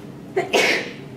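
A single sharp human sneeze in a quiet room during a college class discussion, one abrupt burst rising and fading within about half a second.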